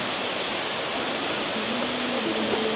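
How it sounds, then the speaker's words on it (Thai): Constant roaring rush of Khlong Lan, a large waterfall in Thailand, dense and steady, with faint music from tourists rising briefly in the background. "เริ่มมีเสียง น้ำตกเข้ามาในกล้องแล้วนะ"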